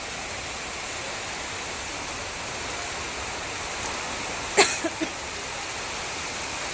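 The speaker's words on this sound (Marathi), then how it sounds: "एकदम जोरात पाऊस चालू झालाय" Sudden heavy downpour roars as a steady, dense hiss of rain throughout, with a few brief sharp ticks or clicks near the end; no talking.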